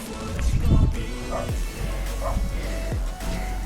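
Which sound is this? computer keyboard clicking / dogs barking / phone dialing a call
dogs barking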